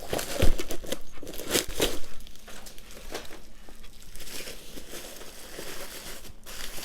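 A taped cardboard parcel of manga being torn open by hand: loud, close crinkling, ripping of tape and cardboard in repeated sharp bursts with rustling between, no talk.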